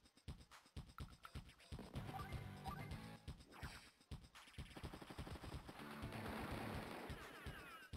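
Rapid bursts of rifle fire and crunching impacts as infantry units attack the enemy in the Advance Wars video game, loud clattering volleys over a tonal music backdrop, briefly cutting out midway.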